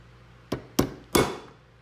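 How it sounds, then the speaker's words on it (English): Three sharp hammer blows strike a small cold chisel against metal held in a vise, each a bright ringing clang with quick decay, spaced unevenly and close by. "use the smaller cold chisel, and just separate this"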